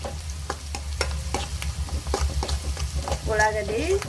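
Onions for a North Karnataka red chutney sizzle and fry in a pan, with regular scraping stir strokes over a steady hiss, close up; a brief voice-like tone near the end.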